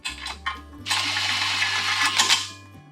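A power tool runs in short bursts at a low trigger setting, driving bolts into a crankshaft adapter for a Kubota engine to Ford 6R80 transmission swap. Its steady whirring hum changes pitch, with ratcheting clicks, close up.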